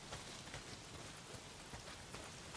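Steady heavy rain pours in the Days Gone video game, a dense continuous hiss with scattered drop patter, even and unbroken throughout with no voices.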